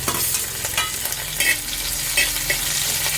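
Tomatoes and curry leaves frying in a hot pan, a steady close sizzle with scraping stirs and soft bursts of spattering throughout, no voices.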